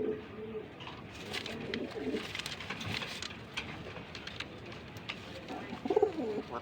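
A pair of red checker racer pigeons coo softly at close range in low, throaty bursts, with light rustling and shuffling in between.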